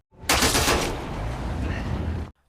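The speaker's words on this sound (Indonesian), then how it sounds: "Lan terkena tembakan dari seseorang" A gunshot in a film scene as a woman named Lan is shot inside a car: one sharp loud blast with a long noisy rumbling tail that fades over about two seconds, with no one talking.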